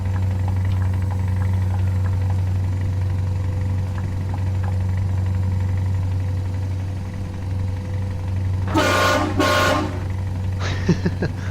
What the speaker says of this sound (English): And that's our air horn. That sounds pathetic.